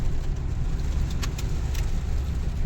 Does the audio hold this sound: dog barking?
no